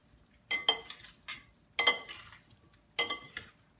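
German potato salad being mixed together in a bowl, with several short bursts of stirring, scraping and clinking of a utensil against the dish, fairly close, with quiet pauses between strokes.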